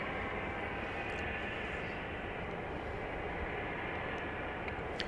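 A plane's engines roar steadily at Dallas Love Field Airport at night, a continuous broad rumble from a moderate distance with no one speaking.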